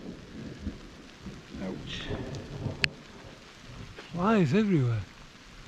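A late afternoon thunderstorm on a Montana–Wyoming bikepacking route, with faint rain and distant thunder rumbling underneath a person who talks briefly and groans a drawn-out, wavering sound.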